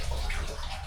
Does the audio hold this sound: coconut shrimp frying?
no